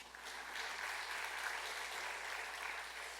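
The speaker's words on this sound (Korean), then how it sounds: "박수를 한번 우리 격려해 주시고." Applause from a church congregation during a Sunday evening worship service, a steady, fairly quiet wash of clapping held evenly for about three seconds with no voices over it.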